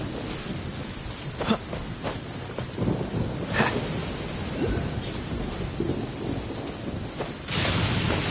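Video game rainstorm in Genshin Impact: steady rain hiss with several rolling thunder cracks and rumbles, fairly loud, no talking.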